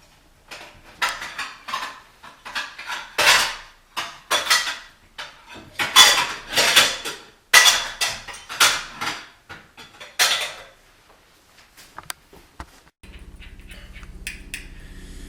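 Hot glycerol and citric acid mixture stirred in a pot, a series of sharp metallic scrapes and clinks from the utensil against the pot wall, fairly close and irregular, then fading into a low steady hum.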